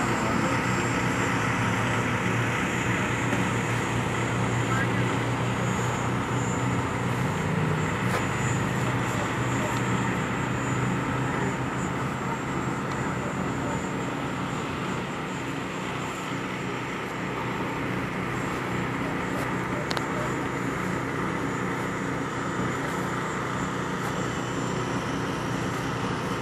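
A light airplane's engine drones steadily on a runway at a fly-in, a constant loud hum with a low rumbling undertone and no breaks throughout.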